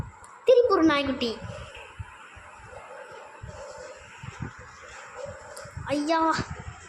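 A puppy character in the Roblox video game gives two short bursts of yips and whimpering barks, one near the start and one near the end, with soft game sounds between them.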